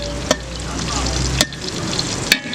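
Onions fry in a pot with a steady, close sizzle while a utensil stirs them, striking the pot in three sharp knocks spread across the sizzle.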